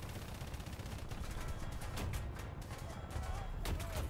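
Rapid gunfire from a Gepard anti-aircraft gun strikes a tank in War Thunder, a dense continuous rattle of impacts running throughout, loud and close.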